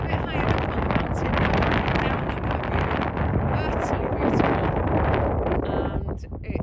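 Strong wind buffets a microphone high on a mountain as evening turns cold, a loud continuous roar with gusty swells and no pauses.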